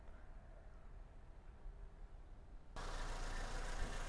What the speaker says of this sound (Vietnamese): Máy rất sáng quý nhá, nổ rất êm luôn.